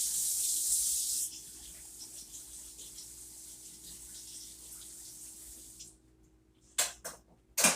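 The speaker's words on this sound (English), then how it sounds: "I'll rinse this off." Rutabaga is rinsed under a kitchen tap, with a steady stream of running water hissing for several seconds before the flow drops off, followed by a few brief clatters.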